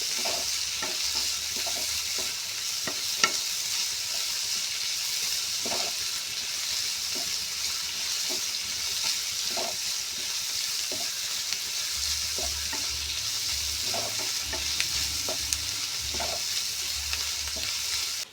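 Chopped tomato and curry leaves sauté in a pan with a continuous dense sizzle and crackle, broken by frequent soft spatula scrapes and stirs, close and steady throughout with no voice.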